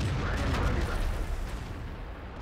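A tank firing a HESH shell in World of Tanks: a dense, loud, boomy blast of rumbling noise that fills the whole short moment and fades slightly at the end.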